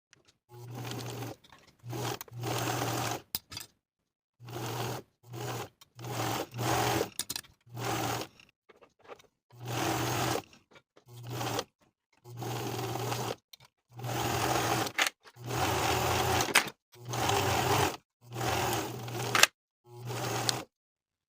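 A sewing machine stitches seams on a knit jacket in many short, loud runs separated by brief pauses, with no talking.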